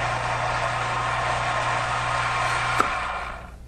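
Electric motor of an AUMA multi-turn valve actuator running steadily with a low hum while driving the valve closed, ending with a click as it stops.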